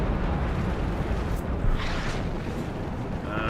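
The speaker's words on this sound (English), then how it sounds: "Artillery inbound." Artillery shells exploding in the WARNO war game, a dense continuous rumble of heavy blasts and booms with no pauses, loud and close throughout.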